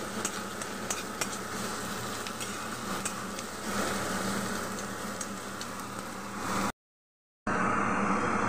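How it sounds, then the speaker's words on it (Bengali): Onions and potatoes frying in a pan: a steady, loud, close sizzle with occasional stirring scrapes, continuous for several seconds before a brief cut and a quieter stretch. "তো দেখো পেঁয়াজগুলো আগে লাল লাল করে ভেজে নিচ্ছি, আলুটাও ভেজে নিচ্ছি"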